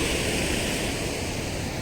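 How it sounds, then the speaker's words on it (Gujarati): Narmada water pouring through the overflow gate of Dantiwada dam, a steady, dense roar of rushing water that stays loud and unbroken throughout, with no voices. "તો આ જઈ રહ્યું છે પાણી મિત્રો."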